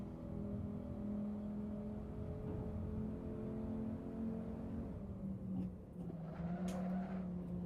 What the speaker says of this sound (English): I can hear the reverb from your engine ahead of me.